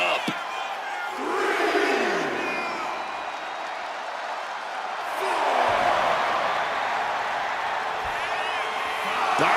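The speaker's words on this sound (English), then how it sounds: "This crowd got him fired up." Arena crowd cheering in the WWE 2K26 wrestling video game, a loud sustained roar that swells and stays dense throughout, with a commentator-like voice faintly under it.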